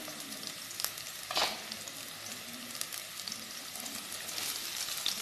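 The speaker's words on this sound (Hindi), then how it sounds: "अदरक और प्याज को मैं हल्का सा सौते करूँगी।" Chopped ginger and onion sauté in hot oil in a pan, a steady soft sizzle and crackle with a brief stirring clatter, heard alone without talk.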